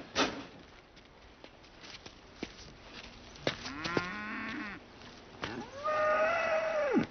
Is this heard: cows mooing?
yes